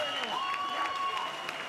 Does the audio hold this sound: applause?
yes